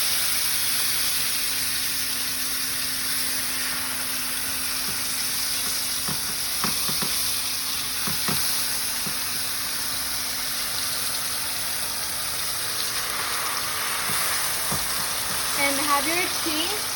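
A corn tortilla dipped in red chile sauce fries in hot oil with a steady broad sizzle, joined midway by a few sharp spatters and crackles, then brighter popping near the end; no talk.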